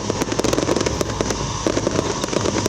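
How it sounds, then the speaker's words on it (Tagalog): A grand New Year fireworks display sends out a dense run of sharp bangs and crackling bursts in rapid, irregular succession, loud and continuous with a background crowd murmur. "Nagbanaag ang madinuagon nga fireworks sa kalangitan nga napawaw ang mga residente."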